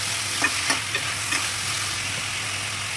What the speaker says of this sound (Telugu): కొబ్బరి, కొబ్బరి మసాలా అన్నీ వేసుకొని బాగా వేగాలి